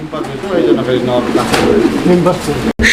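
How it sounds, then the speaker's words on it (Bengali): Pigeons coo in low, rolling murmurs close by, a dense overlapping burble from several birds, ending with a brief clunk. "এখানে আরও এক জোড়া কবুতরের কালেকশন রয়েছে"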